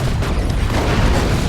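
Land Raider tank blown up in the Warhammer strategy game Dawn of War 2: a loud, dense, rumbling explosion burst that fills the whole short moment.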